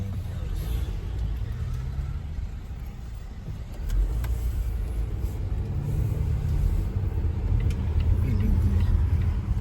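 A car maneuvers slowly into a parking spot beside a garden, its low engine rumble steady and close throughout, rising slightly partway as it moves, with faint voices in the background.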